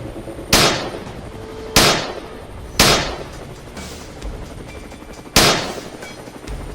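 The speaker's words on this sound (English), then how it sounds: "Once targets were identified, we opened fire in unison" Gunshots fired from helicopters at wild hogs crack out as four loud, sharp reports spaced about a second apart, each trailing off quickly over a steady rotor-like drone.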